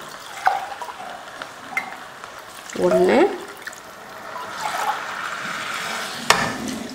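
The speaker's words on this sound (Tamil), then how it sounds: "இதில் தான் இப்போ நம்ம தண்ணி சேர்க்க போகிறோம்" Water is added to a hot pot of mutton keema biryani, giving a sizzling, bubbling pour with clinking stirs, heard close up while a person talks over it.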